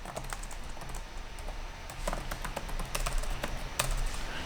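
Steady, brisk clatter of typing on a computer keyboard, with quick irregular key taps running continuously at close range over soft background hum.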